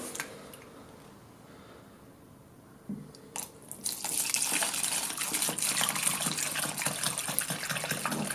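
Cleaning liquid glugging and splashing as it is poured from a 5-litre can into a container, a steady close pour that begins after a few quiet seconds of handling.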